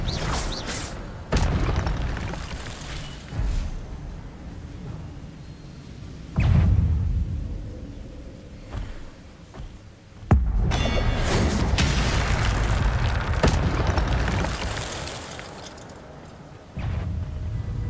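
Disarming spell cast in the Hogwarts Legacy video game, heard as a few sudden booming bursts with whooshing tails, loud and close, separated by quieter stretches of game ambience.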